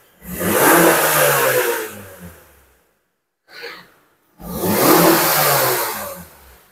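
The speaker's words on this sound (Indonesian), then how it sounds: "Suara mesin super halus" A Honda CR-V engine revs loudly twice in long sustained surges, with a brief quieter blip between them, close by and with no talk.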